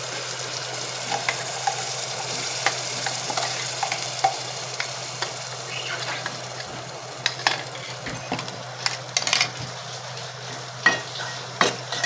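A ground masala paste sautés in a pan for a Malvani-style prawn chutney, giving a low continuous sizzle with frequent sharp clacks and scrapes of a spoon stirring against the pan.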